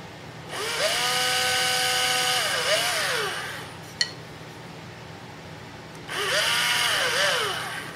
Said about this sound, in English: Then I take the drill and I just barely make a little dimple right there.